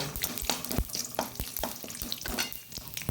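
Urad dal and chana dal frying in hot oil with popping mustard seeds, a close, steady sizzle broken by sharp crackles and a few stirring scrapes, with no talk.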